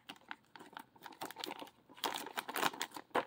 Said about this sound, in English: I'm going to have to rip this bag.